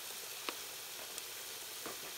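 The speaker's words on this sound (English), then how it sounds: "So we're gonna fry this." Dried chili peppers and a cinnamon stick fry in oil in a pan, giving a steady, close hiss of sizzling with a few faint pops and light stirring taps scattered through it.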